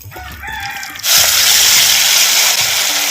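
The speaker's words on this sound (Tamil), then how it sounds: "எண்ணெயும் நல்லா காஞ்சிருச்சு இப்போ எண்ணெயில் வந்து சேர்த்துக்குவோம்" Masala-marinated cauliflower hits hot oil, and a loud, dense frying hiss erupts and holds steady after some clattering kitchen sounds.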